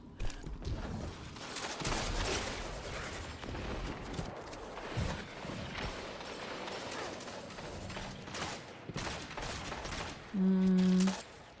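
Scout rifle gunfire in a Destiny Iron Banner match, with repeated sharp shots scattered through a busy, fairly quiet game mix and a brief tonal chime near the end.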